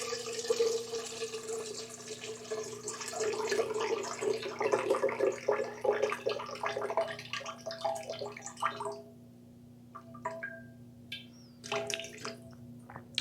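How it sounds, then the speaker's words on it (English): Warm water pours into a bowl from a container for bread dough, a steady close splashing stream for about nine seconds, then a few drips and light handling clatter. "So you need 440 grams of warm water."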